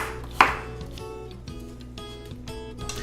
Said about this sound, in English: Here I've got a couple of carrots that I'm going to chop up.